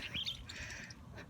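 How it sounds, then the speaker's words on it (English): Faint bird calls and chirps drift in from a distance outdoors, brief and scattered over low background noise. "Don't know if you can hear the local wildlife in the background, all the birds honking."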